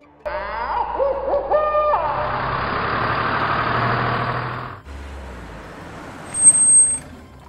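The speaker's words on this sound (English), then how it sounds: "Tow truck." A tow truck engine idles in a dense, close rumble, opening with warbling horn-like tones, then a brief pause and a sharp high hiss of air brakes releasing near the end.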